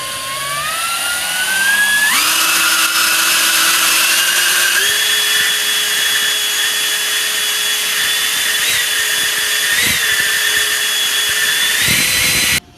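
An electric ducted fan mounted on the back of a J2 prototype RC car spins up with a loud, high-pitched whine that steps up in pitch and then holds a steady scream, with brief blips near the end before it cuts off.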